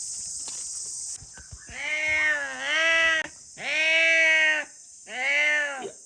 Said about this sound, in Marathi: हा बोका आहे ना, हा मांजर आहे ना, नुसता ओरडत असतो दिवसभर, असाच ओरडत असतो.